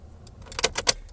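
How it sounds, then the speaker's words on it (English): Car keys jangling and turning in the ignition of a manual transmission car, a quick close cluster of metallic rattles and clicks. "and then go and start the car."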